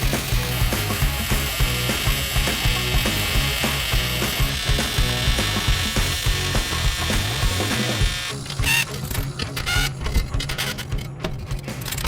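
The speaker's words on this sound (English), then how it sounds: "I'm just going to give it a little push here with the press." A press pushes a bent, welded steel skid plate for a Cummins-swapped Ram back into round, giving a continuous close mechanical ratcheting and grinding that grows choppier near the end, with no talking.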